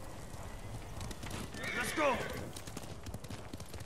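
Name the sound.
horse hooves galloping in Ghost of Tsushima video game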